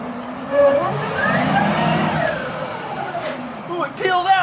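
Electric Porsche 911 race car with eight electric motors peeling out on a track, giving a loud rising whine and tire noise while people talk over it.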